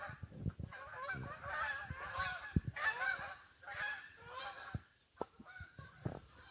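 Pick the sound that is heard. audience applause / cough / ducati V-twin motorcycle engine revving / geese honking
geese honking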